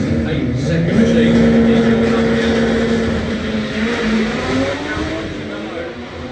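Front-wheel-drive drag cars, one an 8-second machine racing an NSX in the other lane, launch at Hal-Far Raceway with a sustained engine roar that rises in pitch, under continuous commentary.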